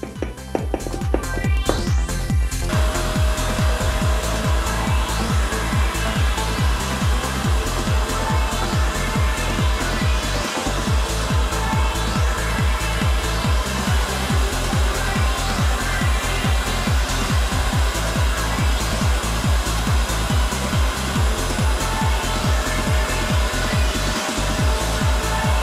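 A 3D-printed cyclone separator on a vacuum sucks up wood dust, giving a loud, steady motor roar with a fast rhythmic pulsing throughout, and a short rustle of debris at the start.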